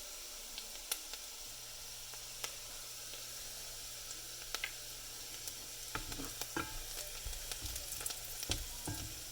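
Bacon and diced onions fry in a pan, a steady soft sizzle that runs throughout, with occasional louder crackles and stirring clicks toward the end.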